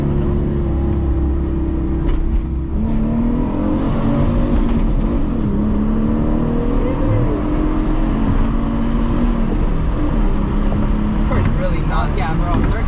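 A Mitsubishi Eclipse third-generation car pulls hard in third gear, its engine droning loud and steady from close inside the cabin, pitch climbing slowly, with people talking over it throughout.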